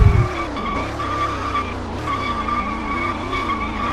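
A race car in the Roblox video game skids along the track, a steady tire screech with engine whine holding over a low rumble, loud and continuous from start to finish.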